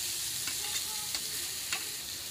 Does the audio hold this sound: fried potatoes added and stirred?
yes